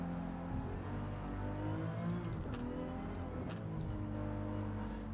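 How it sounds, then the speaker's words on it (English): Toyota Supra with a 2J engine racing in Gran Turismo 7 on Tokyo Expressway, a steady loud engine drone with harmonic whine and slight pitch shifts as it holds high revs throughout. "This Supra is a beast."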